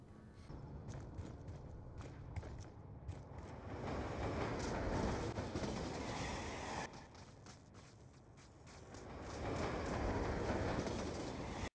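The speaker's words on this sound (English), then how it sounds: "ends an enemy's life by playing chicken with a train" In the Hitman video game, a train runs down an enemy: a steady rail rumble swells, dips briefly, then builds again, with faint bird chirps above it.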